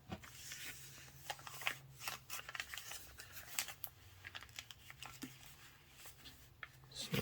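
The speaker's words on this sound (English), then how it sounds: "Unfold the paper now. Repeat the same fold for the opposite side." A sheet of paper is creased and folded into a stunt paper airplane, producing faint, close rustles and soft crinkling taps in a quiet room.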